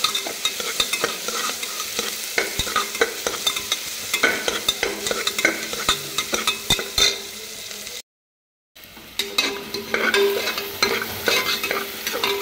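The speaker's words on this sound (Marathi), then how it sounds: "कांदा लाल परतल्यावर मी कढीपत्ता टाकला, लसूण टाकला, बटाटे टाकले, बटाटे पण छान परतले।" Onion, curry leaves, garlic and potatoes sauté in hot oil, with a steady close sizzle and repeated scraping stir strokes, broken by one short silent gap before the frying resumes.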